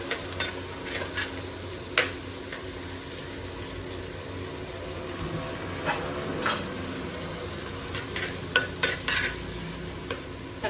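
Tomatoes sautéing with a little rock salt in a pan for fish curry, a low steady sizzle broken by repeated spoon scrapes and clinks against the pan, close but fairly quiet.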